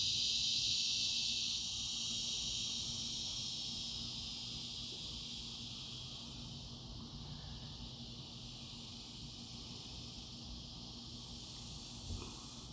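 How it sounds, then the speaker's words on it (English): A steady high droning buzz of cicadas hangs over an outdoor tailgate scene, faint and continuous for the whole stretch, slowly easing slightly in level, with no talk. "Howdy, cicadas."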